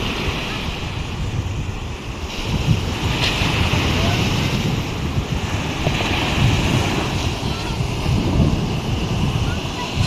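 Ocean waves wash around a boat at sunset, a steady broadband rush with wind buffeting the microphone throughout and no clear breaks.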